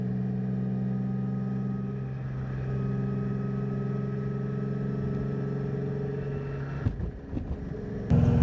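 BMW with a JZ engine swap cruising in traffic, a steady low engine drone with a constant hum under the cabin, ending in a brief burst of louder knocks and rattles.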